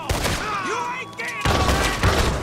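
Shotgun fire in Red Dead Redemption 2 erupts in loud, sharp blasts: one at the start and two more heavy bursts later, with a brief gap between them and tonal game sounds in the background.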